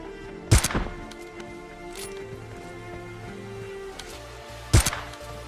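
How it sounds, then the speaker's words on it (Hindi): Two sharp gunshots ring out a few seconds apart in the mobile battle-royale game PUBG Mobile Lite, each a loud, close crack with a brief tail, over faint in-game ambience and no talk. "मैं तो यहाँ पर ऐसे फायर करता हूँ और जैसे फर्स्ट शॉट मिस होता है यहाँ पर मैं दूसरा शॉट भी मारता हूँ"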